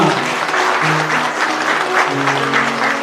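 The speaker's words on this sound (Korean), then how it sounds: "큰 박수로 다시 한번 이 가정을 축하해 주시기 바라겠습니다" Warm, continuous applause from wedding guests at an international Korean-Vietnamese marriage ceremony, full and even clapping with soft background music tones underneath, no talking.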